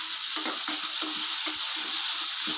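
Onions sautéing in a pan give a bright, constant sizzle, while a utensil knocks and scrapes against the metal in short, uneven taps close by.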